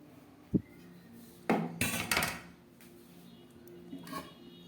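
A metal lid comes off a pot of cooked lote fish curry with a short clank, a scraping clatter and a few lighter taps, fairly close in a quiet kitchen.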